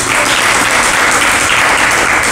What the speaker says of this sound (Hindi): ताली नहीं बजाई तुम लोगों ने?